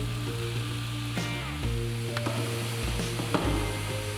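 Pre-chopped red cabbage sautés in a pan with a splash of grape and lemon vinegar, giving a steady, close sizzle with scraping stirs throughout.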